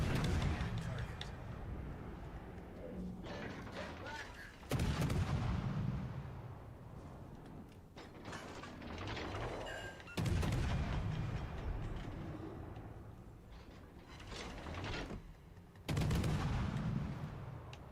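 Naval artillery booming in World of Warships: Legends, heavy gun salvos recurring every few seconds over constant ship and battle noise, with radio-style voice callouts running throughout.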